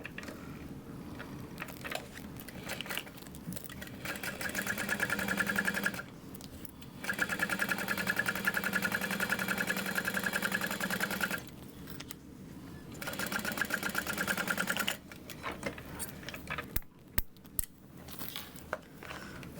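A sewing machine stitches a bag panel with a 3/8 inch seam allowance, running in a few sustained bursts with short pauses between them, at moderate level and fairly close.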